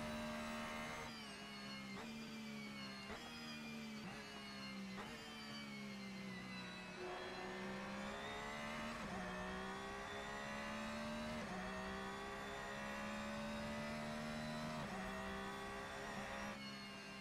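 Race car engine in a racing video game, a loud continuous high-pitched whine rising and falling with repeated gear shifts and throttle changes, steady throughout with no talk.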